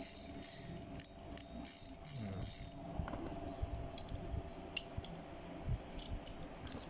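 The clicker of a Weebass Wee Pro 4000 fishing reel ratchets in a fast, steady run of bright clicks for a few seconds, then soft scattered clicks and handling noise follow.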